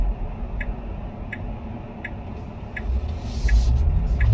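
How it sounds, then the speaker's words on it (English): A car's right turn indicator ticks steadily, about six evenly spaced clicks, over a low road and engine rumble inside the car during a driving test route in Burwood, Sydney. "Give the right indicator, give the way to the traffic coming from the front side."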